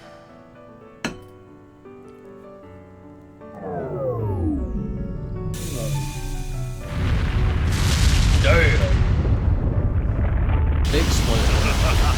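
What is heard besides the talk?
big explosion in the video game Trails through Daybreak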